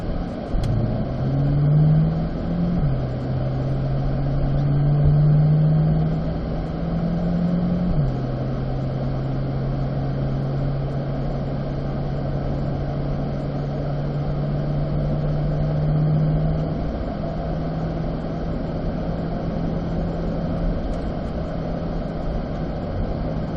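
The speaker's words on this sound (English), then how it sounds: "We're going to work our way up into third gear as we taxi over to our track entry." A C8 Corvette engine pulls up through the gears to third at low speed on the way to a track entry, its droning note climbing and shifting before settling into a steady cruise.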